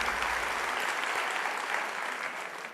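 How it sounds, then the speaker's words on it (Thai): An audience claps for Uncle Fon before his bottle-opening stunt, a dense burst of applause that holds steady and then fades slightly at the end. "เสียงปรบมือให้ลุงฝนนะครับ"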